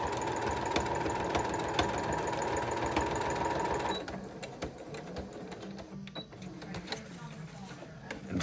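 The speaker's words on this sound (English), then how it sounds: "after we're done quilting this is gonna push the sewing machine back a little" A sewing machine stitches quilting through a vinyl project bag, running steadily and fairly loud for about four seconds before dropping to a quieter, uneven mechanical whir with light clicks.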